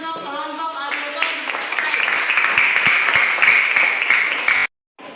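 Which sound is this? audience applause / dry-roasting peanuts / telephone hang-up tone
audience applause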